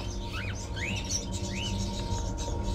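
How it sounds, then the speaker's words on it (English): Caged crows in the video game Fahrenheit (Indigo Prophecy Remastered) give a few short, rising chirping calls over a steady low ambient hum, fairly faint and with no talking. "Oh, lots of birds. Are those crows in the cages?"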